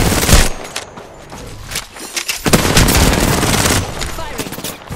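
Rapid video game machine-gun bursts, loud and close, with booms mixed in. Fire starts, pauses briefly, then resumes in dense sustained volleys.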